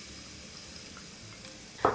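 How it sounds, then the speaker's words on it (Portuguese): Crushed garlic cloves hit hot oil in a pan, giving a steady soft sizzle that swells into a louder, brighter hiss near the end. "eu vou colocar na panela um pouquinho de óleo, 3 dentes de alho amassados"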